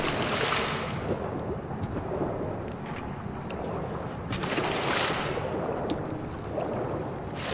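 Rushing water in the video game Trine 5, a steady broadband wash like waves or a flowing stream with gentle swells, continuous and fairly close throughout, with no talk over it.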